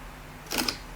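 A camera shutter fires once on a focus rail, a short close double click in quiet surroundings.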